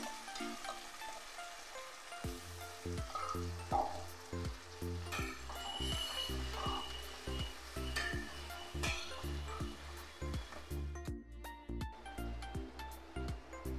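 Spice paste containing garam masala and sugar fries for prawn korma, giving a steady close hissing sizzle with soft bubbling and a regular low thumping rhythm running beneath it, and no voices.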